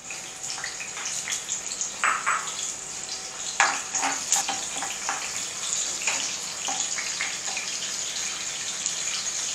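Steady crackling sizzle of onions frying in hot soy oil in a saucepan, with scattered pops and clinks throughout, no talking.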